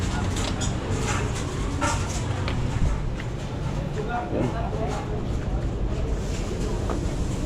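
The engine of a newly assembled cargo-type vehicle runs in a steady, low rumble during a test start, with people talking nearby over it.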